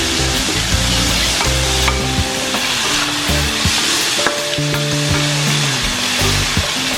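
Ginger, onion and tomato sautéing in a hot pan, a steady loud sizzle with stirring scrapes and clinks throughout, no voices.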